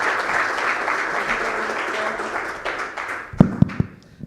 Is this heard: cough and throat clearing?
no